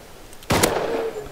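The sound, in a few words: gunshot in video game Rust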